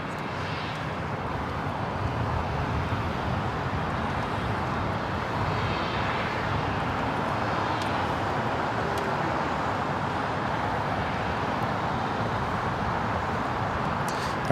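An Asiana airliner, Flight 204 from Seoul, is towed across the LAX apron, a steady broadband roar of engines and ground equipment running unbroken, with distant traffic mixed in.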